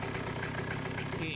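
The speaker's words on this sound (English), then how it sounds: "Idling good." A 2007 Honda CR125 two-stroke motorcycle idles steadily, giving a continuous buzzing, slightly uneven putter at fairly low level with no revving.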